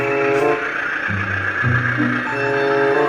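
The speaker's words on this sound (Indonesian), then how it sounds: "Kereta api Argo Wilis berjalan." Argo Wilis passenger train picking up speed, a loud, close, continuous rumble of engine and wheels with a tonal drone that shifts in pitch as it accelerates.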